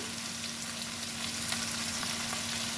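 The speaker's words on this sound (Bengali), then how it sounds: "এবার কুদলিগুলোকে সব ভালো করে ভেজে নেব" Ivy gourd pieces fry in a pan with turmeric, red chilli powder and sugar, giving a steady, even sizzle that stays close and moderately loud throughout a short stretch, with no voices.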